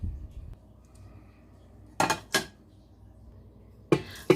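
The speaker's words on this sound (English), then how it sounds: "Transfer the meat into the pot and add the broth." Meat and broth being put into an Instant Pot, heard as sharp metallic clinks and clatters in a quiet kitchen, two knocks in the middle and two more near the end.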